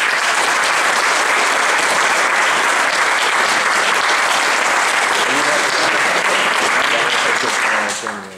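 A bar audience gives loud sustained applause and cheering to welcome a speaker, dense clapping that holds steady and then fades out at the end.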